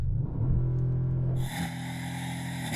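A V8 hybrid car launches hard from a standstill on a damp, rough road, its wheels spinning: a loud, close, deep engine rumble climbs and then shifts to a brighter, broadband roar after about a second and a half. There's no talking.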